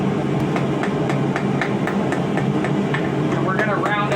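A blacksmith hammers the corners of a forged tentacle piece for a sculptural quadrapus, sharp metallic strikes in a steady rhythm of roughly three per second over a constant engine-like drone, close and loud.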